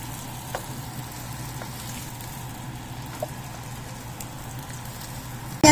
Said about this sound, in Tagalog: i-fry po muna natin ng konti yung onion hanggang sa lumabas po yung kanyang lasa